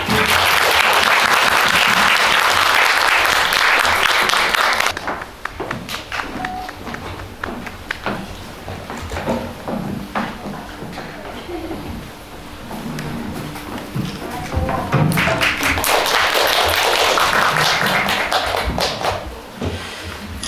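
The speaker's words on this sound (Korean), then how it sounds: "두 분을 큰 박수로 맞이해주세요." A cinema audience at a film talk event applauds loudly as two actors are welcomed. The applause fades into scattered, lighter clapping and room noise midway, then swells again near the end.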